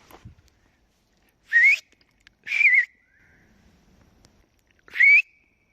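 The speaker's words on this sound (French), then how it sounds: "Du coup on se dirige au sifflement quoi." Three sharp, rising human whistles ring out one after another with quiet gaps between them, loud and clear against an otherwise still background while wild camping.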